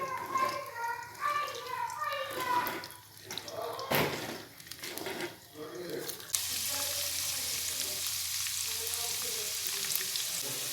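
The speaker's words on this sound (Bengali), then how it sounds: "প্রথমে ঘি দিয়ে রসুনগুলোকে একটুখানি গরম করে হালকা গরম করে তারপরে তেলটাকে দিয়ে দিতে হবে" Garlic frying in ghee and coconut oil while someone talks over it; a soft sizzle sits under the speech at first, a sharp clatter cuts in once, then a loud, steady hissing fry takes over near the end.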